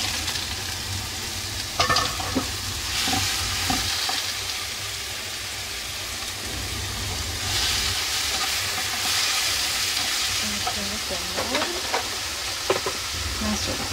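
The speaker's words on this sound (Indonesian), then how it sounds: "Bawang putih ditumis sampai harum, kemudian masukkan jamur." Garlic and mushrooms stir-fried in a pan, a steady sizzle and frying hiss throughout with occasional scrape and stir clatter from a utensil, close and continuous with no talking.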